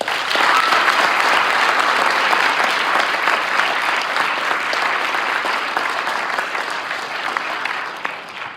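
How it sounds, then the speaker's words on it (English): Sustained, dense applause from an awards night audience honoring school signees, loud and steady throughout with no voices over it, tapering slightly near the end. "Please join me in one final round of applause for all of our signees"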